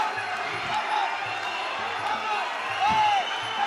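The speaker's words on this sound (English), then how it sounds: "the crowd absolutely going nuts" A crowd at the Reggio Calabria Club cheers during a WBC lightweight title boxing bout, a steady roar with shouts and occasional thuds, swelling briefly near the end.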